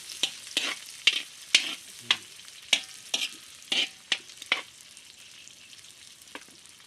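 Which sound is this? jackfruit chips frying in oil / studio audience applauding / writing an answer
jackfruit chips frying in oil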